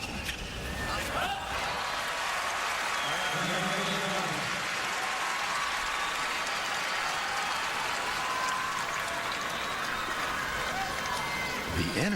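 A tennis crowd at the US Open final between Djokovic and Nadal applauds and cheers in a sustained, dense roar that holds at full volume throughout, with a voice talking over it.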